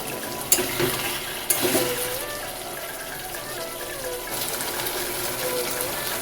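A splash of water goes into spice paste frying in a pan for a soybean and potato curry, bringing a brief pouring gush and then a continuous watery bubbling hiss nearby.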